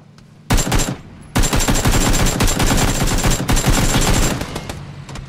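Rapid automatic gunfire in a video game, aimed at a jeep on a road, comes in two long loud bursts after a brief opening shot, close and dense with no talk.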